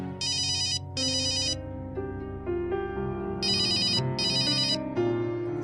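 A telephone ringtone plays during a call, a bright electronic melody in repeating bursts over a soft musical background, with no speech.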